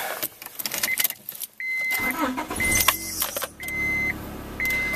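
A car engine cranks briefly and catches after its dead battery was charged from another car's alternator, settling into a steady idle nearby, with intermittent electronic chime tones and a few clicks.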